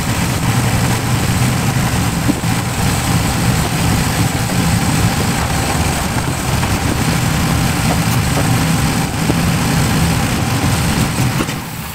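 Austin-Healey BT7 engine with three carburetors idling after a mouse-damage revival, a loud steady rumble with even low pulsing throughout, close by and without voices.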